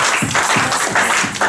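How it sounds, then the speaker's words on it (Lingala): Church audience applauding, a loud, dense wash of clapping with a rhythmic pulse running steadily underneath throughout. "Est-ce que tu vas acclamer pour le Seigneur pour toi-même?"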